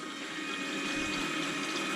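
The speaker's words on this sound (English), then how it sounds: "So the water's flowing and it's going through the radiator" Coolant water running through the radiator of a turbocharged COPO Camaro, a steady rushing, pump-like flow at close range with no speech.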